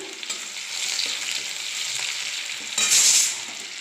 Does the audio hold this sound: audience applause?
no